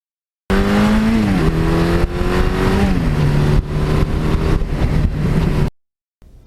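A 1982 Suzuki GS1100E motorcycle engine revs hard through the gears, its loud, close roar climbing in pitch, dropping at each shift and climbing again over about five seconds before cutting off.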